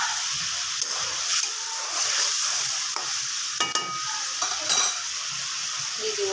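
Frozen tomato sautéing in a hot pan for a pangas fish curry, a steady broadband sizzle with repeated scraping stirs and a few clinks of the utensil against the pan, with no talking.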